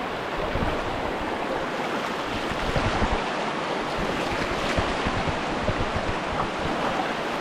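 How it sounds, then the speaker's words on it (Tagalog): Steady broadband rush of flowing river water outdoors, continuous and fairly loud with wind buffeting the microphone, no voices. "yan po ating ilog po"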